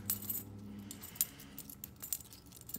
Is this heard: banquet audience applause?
no